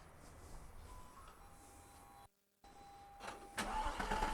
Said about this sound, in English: Let's get the sound of this engine